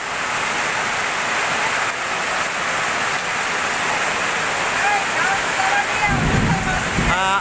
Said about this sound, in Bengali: এই দেখতে পাচ্ছেন বৃষ্টি